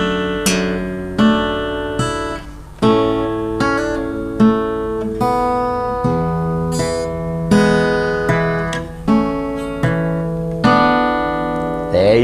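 An acoustic-style guitar plays a fingerpicked section of a song, plucking pairs of strings in a steady rhythm of ringing notes, clear and close with no voices.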